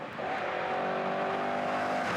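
An Opel Manta rally car driving on the classic Killarney historic rally stages, its engine holding a steady droning note at moderate distance, with no voices over it.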